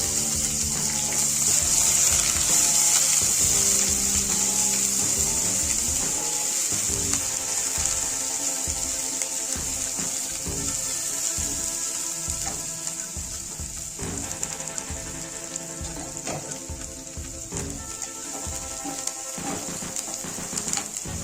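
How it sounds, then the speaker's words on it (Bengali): Chopped onion, cumin seeds and mustard oil sizzle steadily in a wok, a continuous close hiss with faint clinks of stirring, no talk. "পেঁয়াজটা ভাজা হয়ে গেছে"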